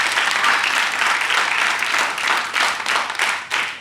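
Audience applause for a jury member being introduced at a semi-final event, loud and dense clapping from a crowd that swells and dips across several seconds.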